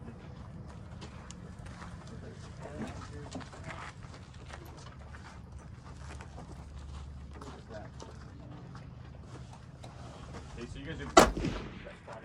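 A single sharp rifle report rings out near the end of a stage at a PRS precision rifle match, after a stretch of outdoor chatter and background noise with people talking.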